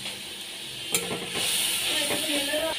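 Black cumin seeds and a green chili hit hot oil in a pan while a fish dish is cooked, a sharp sudden crackle followed by a loud, steady close sizzle and bubbling hiss.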